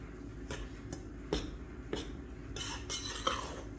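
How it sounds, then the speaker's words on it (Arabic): A spoon stirs dry cake-batter ingredients, including milk powder, in a bowl, giving a quiet series of scraping clinks and taps at irregular intervals, close and alone. "هلا بنحرك المكونات الجافة مع بعضها قبل ما اضيف الزيت"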